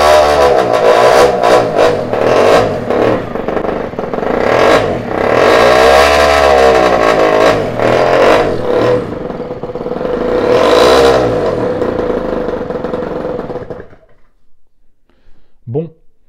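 Moped with a 28 mm carburettor and no exhaust silencer cartridge starts after kick-starting, then revs in loud, rising and falling surges before cutting out. A voice is briefly heard at the end.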